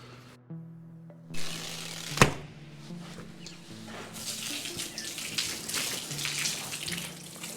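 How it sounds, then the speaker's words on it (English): Water is poured onto a sliding door during a waterproofing test on a new house build. A hum and a sharp knock come first, then a loud continuous splashing rush of running water. "I want to do a quick test to see what happens when we put water here on this sliding door."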